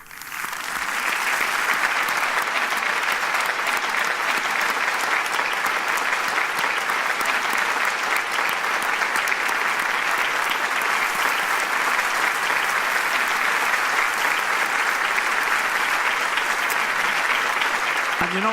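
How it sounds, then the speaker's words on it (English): Audience at a live show giving a sustained round of applause, a dense, loud wash of clapping that holds steady for the whole stretch. "Let's give him a resounding round of applause."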